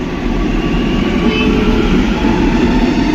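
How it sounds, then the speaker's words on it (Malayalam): A Kochi metro train pulls away from the station platform with a loud, steady rumble and rolling wheel noise that holds throughout. "നമ്മൾ വന്ന മെട്രോ ദാ പോകുന്നു"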